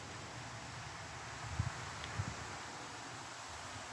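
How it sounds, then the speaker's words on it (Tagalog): Strong wind blowing steadily through tree leaves and branches in a park, a constant broad rustle with a few low gusty buffets against the microphone. "Grabe hangin, mahangin."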